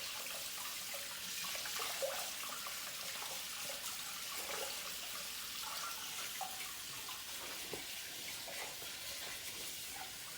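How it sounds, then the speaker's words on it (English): Tap water runs steadily into a kitchen sink while hands are washed, a soft continuous hiss with faint splashes, fairly quiet and without voices. "Wash the hands again."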